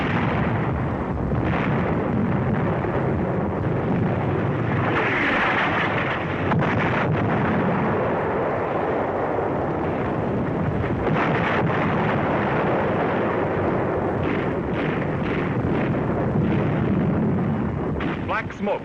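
Artillery shell striking an enemy 88mm gun position at the North African front in 1943, a continuous heavy rumbling blast with wind buffeting and a narrator's voice running over the roar throughout.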